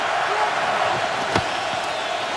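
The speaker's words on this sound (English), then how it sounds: "the crowd in full voice" Football stadium crowd at an NFL game, Rams at the Chiefs, roaring in a steady, dense wash of noise, with a brief sharp clap or thump near the middle.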